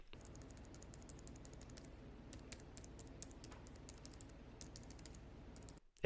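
Typing on a Logitech MX Keys keyboard, a steady quiet patter of soft key presses close to the microphone, continuous for several seconds with no talking.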